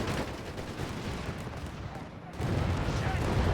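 Battle in Company of Heroes 3 with a Stuka bombardment, dense crackling gunfire and rumbling explosions merging into a continuous roar that swells louder in the final second.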